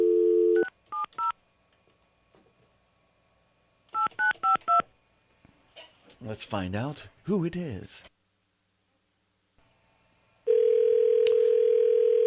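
Telephone touch-tone dialing beeps come in two quick bursts of rapid clear tones, followed later by a loud steady dial tone, with someone speaking between the bursts on a radio call-in show.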